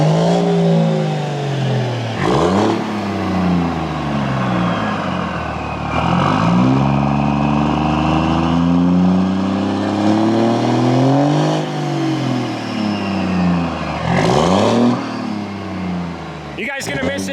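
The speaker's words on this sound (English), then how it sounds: "should we get them a few last exhaust clips before it is gone forever?" A truck fitted with an exhaust stack revs repeatedly, its loud, throaty engine note climbing and falling in several long sweeps close by.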